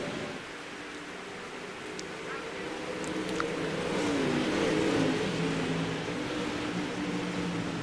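Dirt track race cars in a Dirt Car Series race roar around the track, engine noise swelling as cars pass and then holding at a sustained, fairly loud level from a distance.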